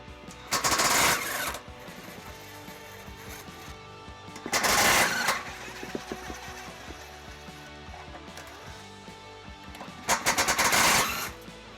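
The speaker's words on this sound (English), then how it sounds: "We'll use the deep well sockets to remove those." Impact wrench bursts removing bolts with deep well sockets during a trailer hitch install on a 2011 Dodge Grand Caravan: three loud whirring, rattling bursts of about a second each, separated by quieter stretches of background noise.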